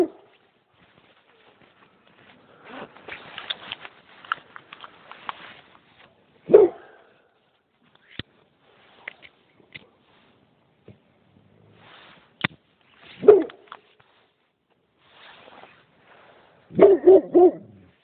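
Dog barking at an abandoned cottage in a forest, several short loud barks scattered through the clip, with a final cluster of rapid barks near the end and quieter rustling between.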